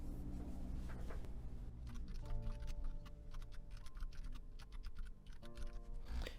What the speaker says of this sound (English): So you have to type your organization name in here.